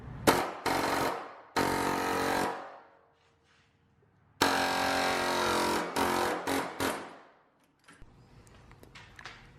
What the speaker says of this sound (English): I have a air hammer, so that's what I'm going to do.